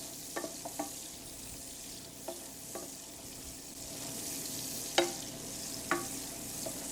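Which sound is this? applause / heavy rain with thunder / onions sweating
onions sweating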